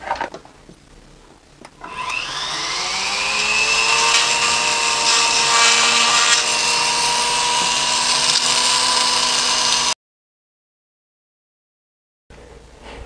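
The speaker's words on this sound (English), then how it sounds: "So I need to go in here and grind this out so that I have a smooth surface to glue the little plastic pieces to." A rotary grinding tool whines steadily as it grinds out the inside of a diecast Caterpillar D11N bulldozer model to smooth a surface for gluing. It spins up after a brief start, holds a loud, even pitch for several seconds, then cuts off.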